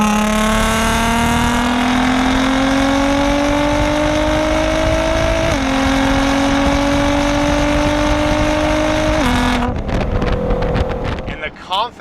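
A tuned 2009 Nissan GT-R R35 making about 600 wheel horsepower accelerates hard while driving, its loud engine note climbing steadily through long pulls with brief shift dips, under wind noise, before easing off near the end.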